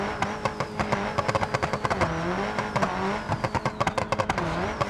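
Simulated car engine revving in BeamNG.Drive, a Lancer mod, loud and close with rising and falling engine pitch, repeated sharp bursts and bumps over rough ground, no talking.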